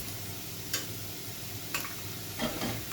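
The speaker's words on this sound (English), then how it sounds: "just to move it around the pot and to help to separate the spaghetti" Spaghetti stirred in a pot with a two-pronged fork: three soft, separate knocks and scrapes over a low, steady background hum, close and fairly quiet.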